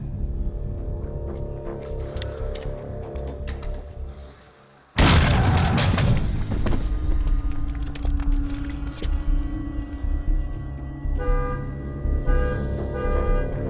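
A grenade detonates in an action-horror film scene: a sudden loud blast cuts in after a tense build-up, then settles into a rumbling, debris-filled aftermath with mechanical noises.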